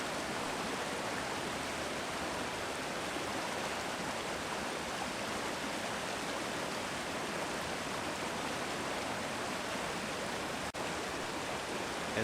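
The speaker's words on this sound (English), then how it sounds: "you'll notice the stream bed becomes noticeably steeper with more small waterfalls" Mountain stream with small waterfalls tumbling down a steepening bed on the Horsepasture River in November, a steady, dense rushing roar that holds level throughout with no voices.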